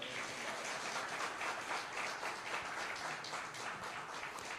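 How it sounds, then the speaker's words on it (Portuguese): A quiet, steady wash of applause from a church congregation during a sermon. It holds at an even level for several seconds. "Dá uma salva de palmas para ele também"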